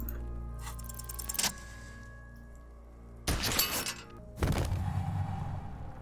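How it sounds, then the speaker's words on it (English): A belt buckle in the video game Disco Elysium shatters in two sharp bursts of breaking metal with jangling, rattling debris, following a quieter low hum and a single click, with no voices. "the buckle explodes into tiny pieces, coming loose with a whir"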